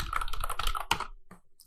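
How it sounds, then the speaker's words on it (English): Computer keyboard keys are typed in a quick, close burst of clicks, then a few scattered taps after a pause, with nothing else heard. "So now we can type some answers"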